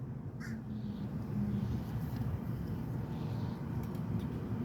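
Crows squabble over scraps of food, letting out a few brief, fairly faint caws against a constant broad outdoor rumble.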